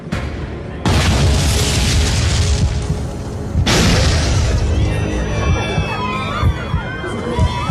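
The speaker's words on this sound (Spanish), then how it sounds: "Dos explosiones sacudían el avión." Two sudden loud booming blasts aboard a Japan Airlines plane in 1985, the first after a short lull and the second a few seconds later, each followed by sustained rumbling roar and rattling.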